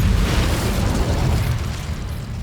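An Incendio fire spell going off in Hogwarts Legacy, heard as a loud, continuous roaring burst with heavy low rumble that holds steady for a couple of seconds before easing slightly, no voices.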